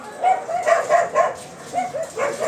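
Small puppies living outdoors without shelter during a downpour give a run of high, close yelping barks and whimpers in uneven bursts, with short pauses between them.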